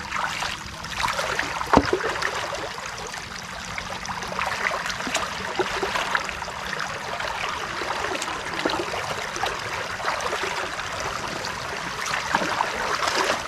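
Irrigation water streams steadily into a rice paddy field, a continuous close rushing and gurgling flow with small splashes, loud and alone without voices.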